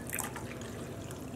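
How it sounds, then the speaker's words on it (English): A brief splash of warm water pouring steadily into a container of Jacquard acid dye, close and fairly quiet. "now I want to add some warm water"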